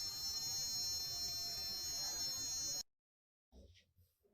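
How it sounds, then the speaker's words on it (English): A water level alarm buzzer, programmed to sound at high, critical and overflowing water levels, drones as a steady, loud electronic tone for nearly three seconds, cuts off abruptly, and is followed by a brief burst of noise. "we program it to alarm just when the water reaches high, critical, and overflowing levels"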